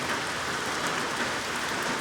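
Steady rain falls outside near a garden with tomato plants and a teepee, a dense, even hiss of drops spread evenly through the whole stretch with no voices.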